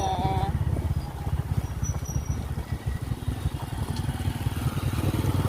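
A motorcycle engine runs steadily with a low, pulsing rumble as it pulls up at a public cemetery on All Souls' Day, fairly close and continuous with faint background noise.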